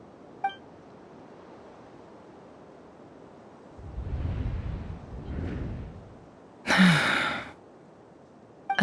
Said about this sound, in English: I heard Yehoda gasp